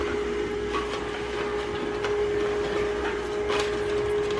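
A 3-in-1 juicer pressing fresh fruit and vegetables gives a steady, fairly quiet motor hum with a constant tone, plus faint grinding and crunching from the produce, continuous and close.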